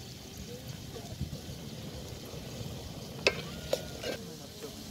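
Onion and tomato sautéing in a pan for Kerala-style crab curry, cooked outdoors: a low, faint sizzle with a few sharp ladle clinks against the pan and soft voices in the background.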